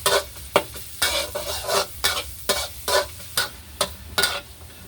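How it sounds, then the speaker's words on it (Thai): Crushed garlic sizzles in hot oil for a stir-fry of pork belly and cabbage, a soft frying hiss broken by regular scraping stirs about every half second. "ใส่น้ำมันไปเลยครับ ใส่กระเทียมทุบครับ"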